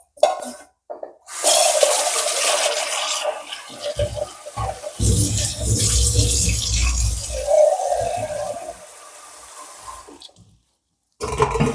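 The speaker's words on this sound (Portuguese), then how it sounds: "Botar água aqui." Water pouring from a tap into a container: a loud, continuous rushing stream, close by, with brief gaps and a few soft knocks before the flow cuts off.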